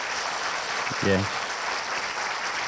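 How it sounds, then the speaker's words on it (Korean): Parents and students at a Korea University engineering freshman welcome event applaud a professor. A dense, even wash of clapping fills the hall, and one brief voice cuts in partway through. "박수로 한번 우리 교수님."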